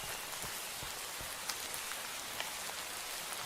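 Steady Minecraft rain patters across a surface, dense and even, with occasional louder drops standing out against the constant hiss.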